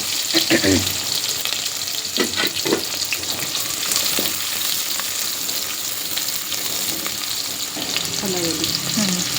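Onions sizzle and fry in hot oil in a pan for North Karnataka-style pulao, a steady loud crackle with occasional stirring scrapes throughout, no talking.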